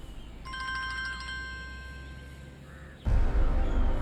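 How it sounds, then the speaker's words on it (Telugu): A phone ringtone for an incoming call sounds in a tense mystery-thriller scene: a bright electronic melody of repeated tones over low room hum, playing alone for a few seconds before cutting off abruptly into louder background noise. "ఇప్పుడు ఎవరు ఫోన్ చేస్తున్నారు?"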